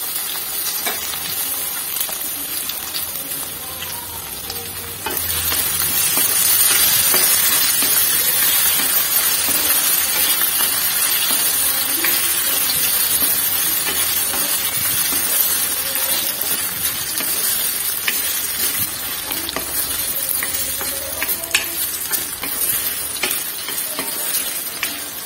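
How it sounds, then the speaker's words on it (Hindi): Potatoes frying in a pan with green chili, a loud continuous crackling sizzle that swells after a few seconds, with occasional stirring scrapes and clinks, no speech. "इसके बाद आलू, आलू को अच्छे से फ्राई कर लेंगे।"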